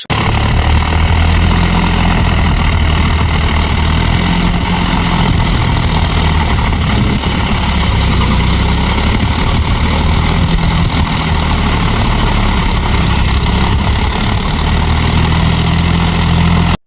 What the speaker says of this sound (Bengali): শুনলে যে এই ট্রাক্টর এসেছে